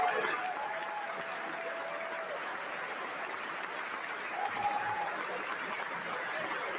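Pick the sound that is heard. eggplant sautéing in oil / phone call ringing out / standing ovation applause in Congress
standing ovation applause in Congress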